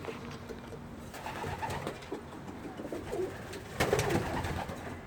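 Pigeons coo in a new coop, soft overlapping rolling calls at close range continuing throughout, with rustling and fluttering movement among the birds.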